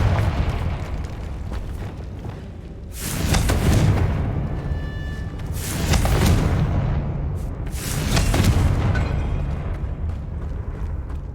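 Confringo blasting spell explosions in the Hogwarts Legacy video game, three deep booming blasts a couple of seconds apart, loud and close over a low rumbling background.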